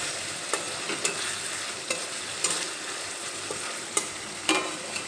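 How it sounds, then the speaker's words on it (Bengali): Onion paste frying in a pan with a steady low sizzle, stirred with a spatula that scrapes and taps the pan at irregular intervals, close and moderately loud with no talking. "পেঁয়াজের পেস্ট দিয়ে একটু নেড়ে চেড়ে নেব।"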